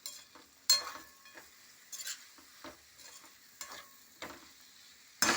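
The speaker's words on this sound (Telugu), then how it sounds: "టమాటాలు వేసుకున్నాక ఇలా అంతా ఒకసారి కలిపేసుకున్నాను." A spoon stirring chopped vegetables and tomatoes frying in a pan for mixed vegetable upma, with repeated scraping strokes over a steady soft sizzle, close up and without talk.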